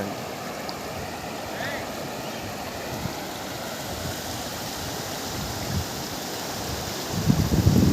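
Rushing floodwater pours across farmland like water spilling over a weir, a continuous broadband roar that swells slightly louder near the end.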